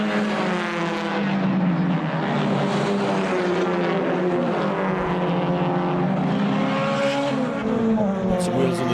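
Race cars roar past on the circuit at Red Star Raceway during a regional racing festival, engines rising and falling in pitch as they pass, with a commentator talking over the sound.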